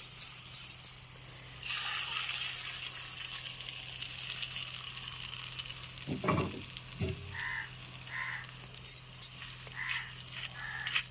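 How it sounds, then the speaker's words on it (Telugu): Hot tempering poured into tamarind chutney, a steady sizzle and fry that swells loudly after a quiet start, with a few clinks of utensils and stirring toward the end. "చింతకాయ పచ్చడిలో ఈ రకంగా చక్కగా తాలింపు పెట్టేసుకోవాలి."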